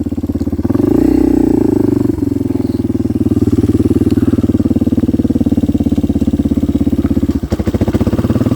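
A Kawasaki KLX 230R dirt bike engine roars up close and loud, its pitch rising and dropping as it shifts up through the gears, with a steady pulsing drone between the changes.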